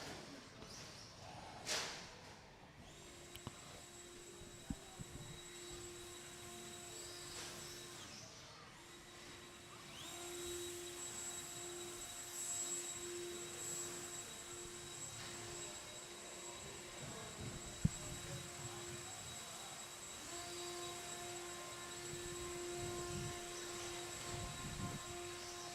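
Battery-powered blowers run steadily while clearing debris off a model racing layout, a sustained whirring hum with a high whine that holds for most of the stretch, with faint background noise and no talk.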